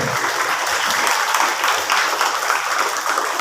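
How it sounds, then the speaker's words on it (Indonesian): An audience at a school Kartini Day ceremony in Jakarta claps steadily, a dense, even wash of applause that lasts throughout without a break. "Tepuk tangan dulu buat kakak Keisha ya."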